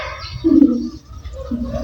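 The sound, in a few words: bird call, pigeon or dove cooing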